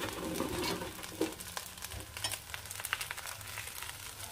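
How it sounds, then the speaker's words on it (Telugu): Fried chicken pieces tossed into fried rice in a hot pan, with steady sizzling and a few scraping stirs, close and moderately loud. "ఇప్పుడు మనం ఫ్రై చేసుకున్న చికెన్ వేసుకుందాం. చికెన్ వేసి మళ్ళీ టాస్ చేసుకుందాం."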